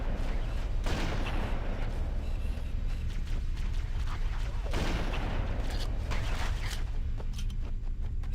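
Gunfire in Halo, a modded game with jackal enemies, crackles in a steady, dense fusillade of close shots with sharper bursts around one and five seconds, loud throughout with no talk.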